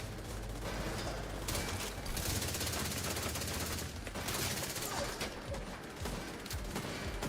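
Rapid automatic gunfire in the video game Division 2, with sustained bursts of machine-gun fire separated by short pauses. The shots are loud and continuous, and nobody speaks over them.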